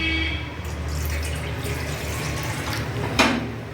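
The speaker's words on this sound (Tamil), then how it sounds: "தண்ணி ஊற்றிக்கலாம்." Water poured into a pot of tomato kuruma on the stove, a steady close splashing and trickling stream lasting several seconds, with a brief louder gush near the end.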